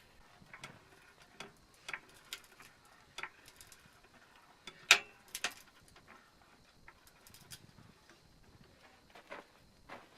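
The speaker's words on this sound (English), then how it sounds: "Some of that is the sound of the wood breaking." Sharp, irregular cracks and snaps of wood breaking while stabilizer blocks are built for a school bus, scattered faint pops with one louder crack near the middle.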